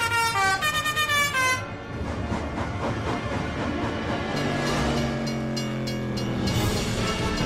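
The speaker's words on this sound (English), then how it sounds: "There's a train coming." A loud pulsing horn blares, then a train rumbles and clatters past nearby, wheels grinding steadily on the rails.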